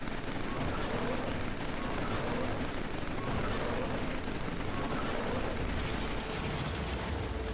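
Rapid, continuous gunfire in Killzone 3, a dense unbroken clatter of automatic shots filling the whole stretch with harsh, mechanical texture at steady loudness.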